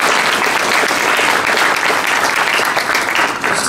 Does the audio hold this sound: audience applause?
yes